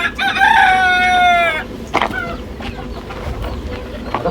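On a desi poultry farm, a rooster lets out a loud, close crow that rises and then trails off, followed by a few soft hen clucks and rustling.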